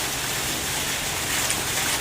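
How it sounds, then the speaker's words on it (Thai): Steady April rain falls outdoors, a dense, even hiss of drops that holds at a constant level for two seconds with no voices. "ฝนยังได้มาตกเดือนเมษาพี่น้อง"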